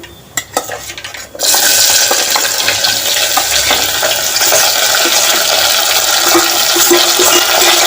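Loud, steady sizzling of onion, tomato and potato frying in a hot pan, beginning abruptly after a second of quieter clatter and continuing without pause.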